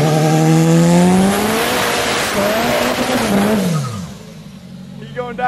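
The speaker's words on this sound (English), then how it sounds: "Go backwards, do a little burnout" A video-game car doing a reverse burnout: a close, loud engine rev with squealing tires whose pitch climbs and then drops away, while people talk over it.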